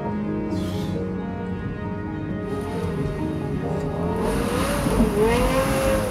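A Lexus LFA's engine revs hard and steadily while the car drifts, a loud, continuous high-pitched wail with rising pitch sweeps near the end and faint tire noise beneath.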